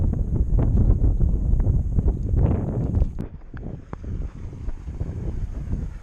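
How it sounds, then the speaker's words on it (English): Wind buffets a microphone on a fishing boat in a small cove, loud gusty rumbling bursts that ease off partway through before picking up again. "The wind's probably kicking."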